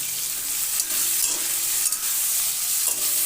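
Taro stems frying with salt and turmeric in a pan, a dense, loud sizzle close up with a few soft stirring scrapes, no voices.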